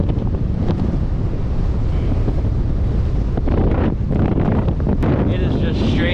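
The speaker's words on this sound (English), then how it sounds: "It is just straight headwind that I'm cycling into" Strong headwind buffets the microphone while cycling along a beach in Queensland, Australia, a loud, continuous roar of gusting wind with surf noise underneath, steady throughout with no break.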